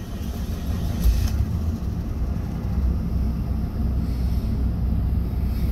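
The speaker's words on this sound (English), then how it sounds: "I'll let it run for a minute." A 2005 Suzuki Grand Vitara with 87,000 miles idles steadily after a cold start, a low continuous engine rumble with a brief higher whine early on, heard from inside the vehicle with no talking.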